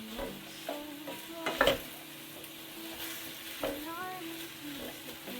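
Garlic sizzling in oil in a pan for a Mediterranean seafood stew, a quiet steady fizz with a few clinks and stirring knocks, close but soft, with no speech.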